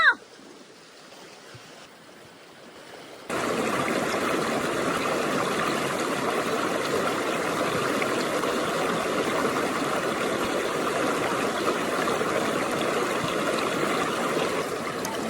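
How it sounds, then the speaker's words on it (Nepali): A river stream flows steadily, a loud broadband rush of water that starts abruptly after a quiet opening few seconds and then continues unbroken. "अहिले चाहिँ भन्नुपर्दा हामी चाहिँ खोलामा छौँ"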